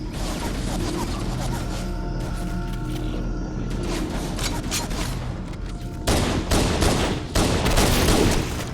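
Shotgun blasts in Halo: The Master Chief Collection go off amid a dense, continuous wash of game combat noise, with louder bursts of fire toward the end and players talking over the action.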